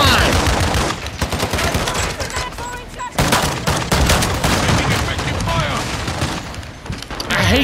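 Shotgun fire in a video game, heavy blasts in quick succession over dense gunfire from other weapons, loud and close, with a voice talking over the action.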